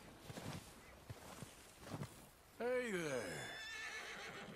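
Horse in Red Dead Redemption 2 letting out a loud, drawn-out whinny that starts partway through, after quieter moments with faint hoof and rustling sounds and someone talking over the game.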